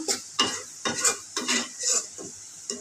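Onion being fried in a pan, heard as a series of close scraping stirs of a utensil against the pan in uneven strokes over a faint background sizzle.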